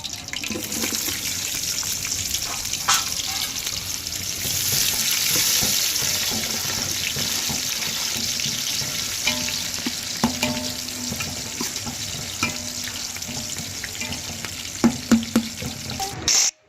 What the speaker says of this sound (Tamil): பெரிய வெங்காயம் இரநூறு கிராம் அளவு போட்டுக்கலாம்